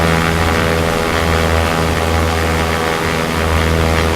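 Cessna propeller engine in the X-Plane 11 flight simulator, a loud continuous droning hum with steady low tones and a slight pulsing throb, alone throughout.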